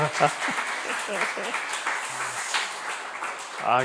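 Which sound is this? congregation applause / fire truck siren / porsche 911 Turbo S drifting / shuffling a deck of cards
congregation applause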